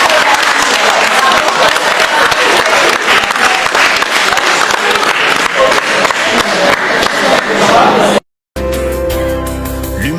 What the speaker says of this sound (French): je vous demande d'applaudir pour vous-même